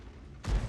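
Video game gunfire: after a faint, quiet lead-in, one sudden loud burst of rounds lands near the end, with booming low-end impact.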